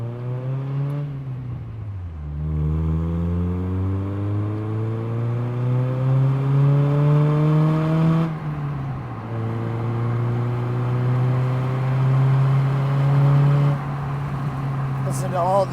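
A 2007 Honda Fit GD3 engine revs up through the gears, its drone rising in pitch, dropping at each shift and climbing again, heard from inside the car with steady road noise underneath.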